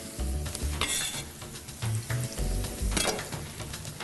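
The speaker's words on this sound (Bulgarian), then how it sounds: "и леко запържвам лука и чесъна." Onion and garlic fry in olive oil in a pan, a loud close sizzle with clattering stirs and utensil knocks over four seconds, no talking.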